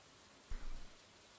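Soft, steady rain hiss in the video game Stardew Valley, with a brief low thump partway through, faint and even throughout.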